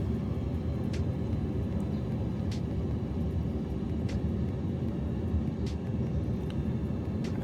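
Steady droning airplane engine in a flight simulator game, holding a constant low rumble with faint intermittent clicks over it throughout.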